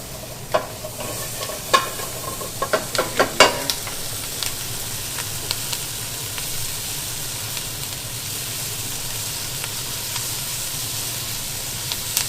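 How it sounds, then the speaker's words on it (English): Vegetables sautéing in a hot pan for brown rice, a steady close sizzle with a burst of stirring scrapes and clatters early on, then a continuous frying hiss alone. "So we're just going to saute these a little bit."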